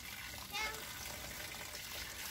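A kitchen tap runs in a steady, close stream of broadband water noise, with a brief splash near the start and a constant level to the end.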